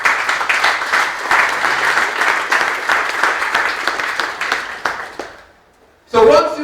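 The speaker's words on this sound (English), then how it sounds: "So we give Brother Williams a round of applause for his contribution." A lecture audience breaks into sustained applause, loud and dense for about five seconds, then fades to quiet before a voice resumes speaking.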